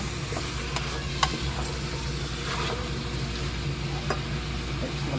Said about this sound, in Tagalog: Haluhaluin lang hanggang mag golden brown.